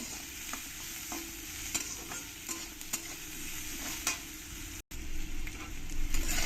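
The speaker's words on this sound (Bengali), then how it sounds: "লবণ দিয়ে গ্যাসটাকে মিডিয়াম করে আমি এগুলোকে একটু ভালো করে ভেজে নেব" Cumin and coriander dry-roasting with salt in a pan over a medium gas flame, a low continuous sizzle broken by repeated scraping stirs at an uneven rhythm, close and clear, with a brief dropout near the end.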